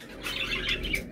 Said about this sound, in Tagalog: Parakits talaga.